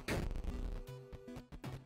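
An explosion in the video game Tiny Rogues, a loud burst at the start followed by a rapid string of sharp blasts and popping hits with tonal game effects, close and dense, with no talking.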